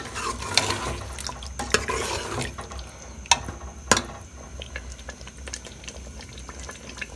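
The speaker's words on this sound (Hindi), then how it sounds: "चम्मच हम प्रॉपर चलाते जा रहे हैं इसमें" A spoon stirs chicken curry with yogurt in a pan over medium heat, scraping in several distinct clinks and scrapes over a steady low sizzle and bubbling.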